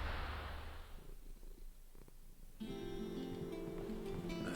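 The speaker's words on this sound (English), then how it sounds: "I love my cat. He's so cute." A cat purring in the Final Fantasy XVI video game, a soft low rumbling purr that is faint and continuous, with light game music entering partway through.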